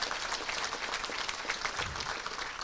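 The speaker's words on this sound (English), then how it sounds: "How about a round of applause for that MVP performance there?" Audience applause at a touchdown club awards banquet, steady dense clapping from a room of people holding a constant level throughout.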